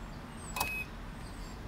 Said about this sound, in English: this lock here, when I lock the car